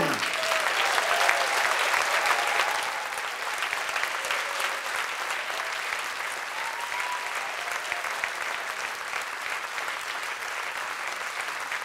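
An audience applauds at a live stage event, with sustained, dense clapping from a crowd over the whole stretch, slightly louder at first and then steady.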